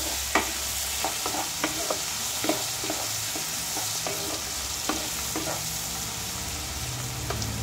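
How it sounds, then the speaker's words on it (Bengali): Cumin powder and spices sizzle steadily in a hot pan while a utensil scrapes and taps in an irregular stirring rhythm, close up with no talking. "এটা ভাজা ভাজা হতে থাকুক।"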